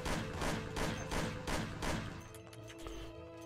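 Enemy gunfire in the Mafia video game mission "Der Tod der Kunst": a loud, dense run of rapid shots for about two seconds, then quieter scattered shots and thuds.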